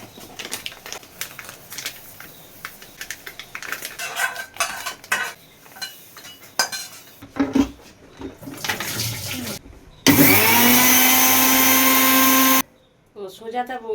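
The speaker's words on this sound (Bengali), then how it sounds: "আজকে নতুন মিক্সার গ্রাইন্ডারে ওপেনিং হবে, ওপেনিং ভিডিও" A new mixer grinder switched on after kitchen handling and clinks, a loud steady motor whine for about two and a half seconds before cutting off, with someone talking around it.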